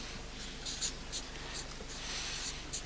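A marker squeaks and scratches across large paper sheets in short repeated strokes, close up and steady, with no talking.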